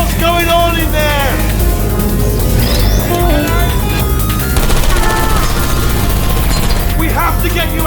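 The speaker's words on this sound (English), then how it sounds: "I heard gunfire!" Gunfire in the video game Portal 2 rattles in loud bursts against a busy, crashing game soundscape, with a voice speaking over the action.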